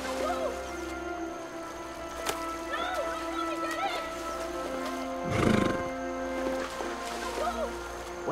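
Horses whinny and shift about outdoors in a Western short film, with high neighs rising several times against a steady ambient background and a brief louder rustle partway through.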